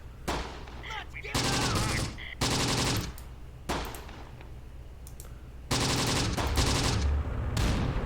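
Tank gun fire in the World War II game Close Combat, North African campaign: several loud, sharp blasts, each in its own short block, separated by quieter gaps with faint clicks.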